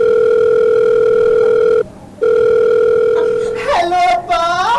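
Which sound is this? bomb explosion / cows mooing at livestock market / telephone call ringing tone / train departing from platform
telephone call ringing tone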